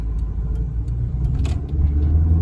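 Toyota Corolla AE101 engine pulling under acceleration on a night drive, a steady loud low rumble with faint revving rising slightly over a couple of seconds.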